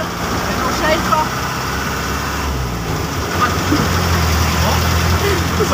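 Steady mid-pitched rumble of a truck engine idling close by, continuous and even, with faint voices and background clatter over it.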